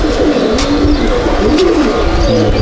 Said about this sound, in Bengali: সব ব্লু করতেই পায়রা, ছাপকা পায়রা।